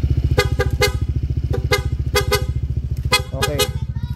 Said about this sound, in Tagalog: So pakita ko na lang po sa inyo yung PIA horn nya.